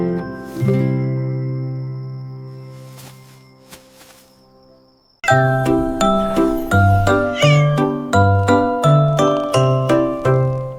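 A cat meows repeatedly within a bright children's nursery-rhyme song, the meows set over sustained then plucked, jingly bell-like tones in a bouncy rhythm; no singing voice.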